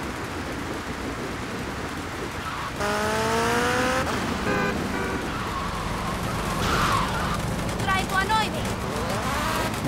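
Motorcycle riding in the GTA Trilogy video game during rain at night, with a rising engine whine and sweeping tire and motor tones over steady rain-like hiss, fairly loud throughout.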